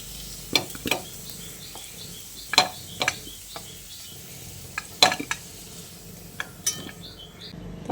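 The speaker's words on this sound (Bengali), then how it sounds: "এবার এই ভাজা আলুগুলোকে একটা প্লেটে তুলে নিচ্ছি" Fried potatoes being stirred and lifted out of sizzling oil while cooking a vegetarian potol and soybean dish, with a steady fry hiss under several sharp scrapes and clinks of a utensil against the pan.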